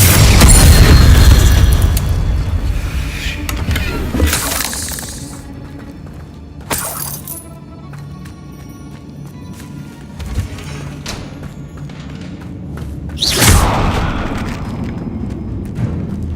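Heavy booming spell blasts and crackling bursts in the Hogwarts Legacy video game, a loud rumbling impact at the start followed by scattered sharp cracks and thuds at varying distances.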